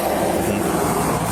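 Passing cars on a roadside shoulder produce a steady, loud broadband roar and rumble with a droning low hum, continuous throughout.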